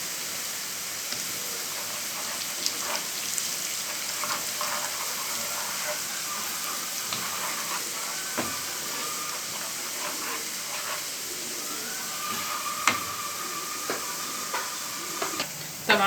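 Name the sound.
frying tasha of garlic and dried coriander for molokhia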